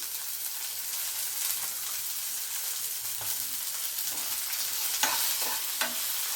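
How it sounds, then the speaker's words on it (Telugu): Curry leaves fry with onions in a pan for a home-style cauliflower vegetable curry, a steady soft crackling hiss with a few sharper stirring scrapes toward the end. "ఇది కొంచెం వేగాలి బాగా."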